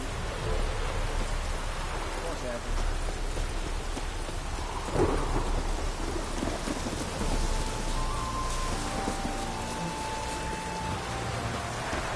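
Steady heavy rain pours during a thunderstorm in The Witcher 3, with a thunder rumble near the middle and dense, constant noise throughout.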